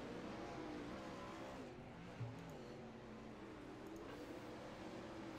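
Sprint cars in a 410 fixed sprint car series race lapping the track, a continuous engine roar that swells and fades with cars passing, heard faintly and at a distance.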